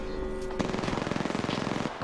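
Rapid automatic gunfire from Apex Legends, a loud sustained burst of closely spaced shots after a brief lead-in, with game sounds around it.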